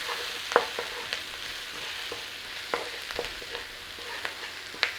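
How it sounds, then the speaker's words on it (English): A spoon stirs sausage and bean stew, seasoned with pepper and salt, as spices bloom in hot oil in one pot, with intermittent scrapes and clinks over a low, continuous sizzle. "Give that a quick stir through."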